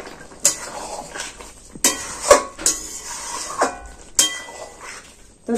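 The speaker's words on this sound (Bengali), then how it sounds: "আবার এটাকে একটু নাড়াচাড়া করে নিলাম।" Metal spoon scraping and knocking against a pan while pumpkin and shrimp curry is stirred, a series of sharp clinks and scrapes at irregular intervals, close and fairly loud.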